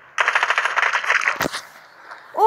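Rapid automatic gunfire from the mobile shooter game Standoff 2, a loud sustained burst of close shots ending abruptly in a sharp report, then quieter game ambience.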